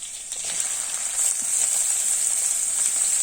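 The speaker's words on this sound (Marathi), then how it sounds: "त्यानंतर लसूण अद्रकची पेस्ट, त्यानंतर कांदा मी इथे चॉपरने एकदम बारीक केलेला आहे तो मी इथे" Finely chopped onion hits hot oil, with garlic-ginger paste and cumin, for a spicy chicken rassa gravy. It sizzles loudly and steadily, close by, with a bright hiss that swells slightly partway through and then holds.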